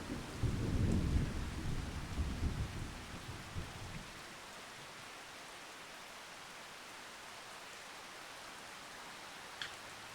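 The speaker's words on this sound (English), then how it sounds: "Oh no, it's storming." Heavy rolling thunder rumbles for a few seconds, then fades into a steady hiss of rain that continues alone, in Farming Simulator 25.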